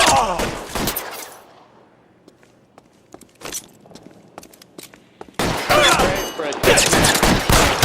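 Gunfire from the video game L.A. Noire Remastered: a loud fusillade of shots, then a quieter stretch of scattered pops and footsteps, before dense rapid bursts of shooting resume close and heavy.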